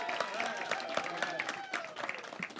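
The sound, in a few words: comedy club audience applauding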